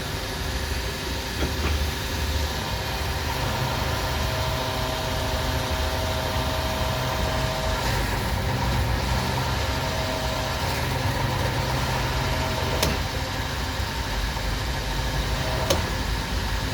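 A Daewoo Matiz drives along with its engine droning steadily, a loud, continuous low rumble of engine and road noise heard from inside the car, with occasional faint clicks.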